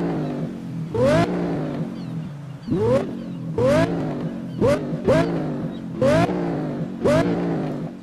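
Lamborghini Gallardo Super Trofeo engine in the NFS Rivals racing game, revved hard in a series of about eight sharp rising blips with pauses between, loud and close.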